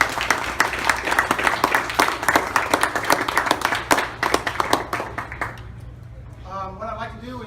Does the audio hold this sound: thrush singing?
no